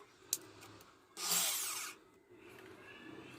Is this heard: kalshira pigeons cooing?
no